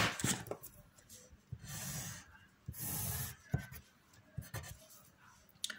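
A graph is drawn on a classroom board during a control-systems lesson. Marker or chalk scratches and rubs in short strokes and longer sweeps, fairly close and crisp, with pauses and faint breathing between the strokes.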